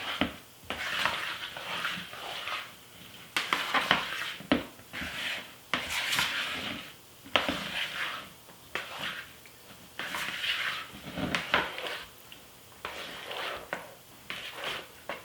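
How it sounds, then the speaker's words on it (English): Cheese stirred into macaroni in a pot, a steady series of close, soft scraping and squelching strokes in bursts with short pauses, no talk over it. "So now I'll get this cheese stirred in."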